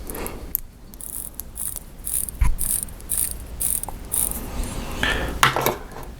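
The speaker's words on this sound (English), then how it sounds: "I don't know if you can hear the winding. It's pretty quiet." Crown of a Rolex Oyster Perpetual 116000 watch being wound close to a microphone, giving quiet, repeated ratcheting clicks in an irregular rhythm over a soft background hiss.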